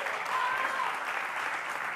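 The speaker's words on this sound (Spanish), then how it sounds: "¡Fuerte el aplauso!" A studio audience on an Argentine TV talk show bursts into loud, dense applause, a continuous even roar of many hands clapping close to the microphones.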